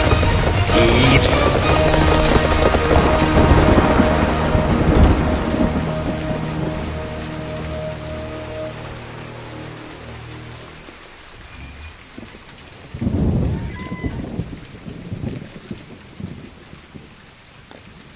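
Heavy rain pours steadily and loudly, with rolling thunder rumbling through the downpour and a fresh thunderclap swelling near the end; no voices.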